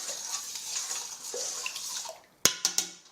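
Water being stirred in a sink or bowl to dissolve a fruit and vegetable wash, soft continuous swishing and trickling, ending with a few sharp knocks as something taps the container.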